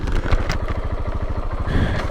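A 2007 KTM 690 Supermoto single-cylinder engine pulsing steadily and loudly up close on the road, a rapid even thumping throb that holds without pause.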